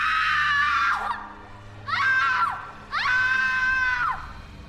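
A woman lets out a heartrending scream as a ghost on a roadside, three long, loud, wavering wails separated by short pauses, with a low hum underneath.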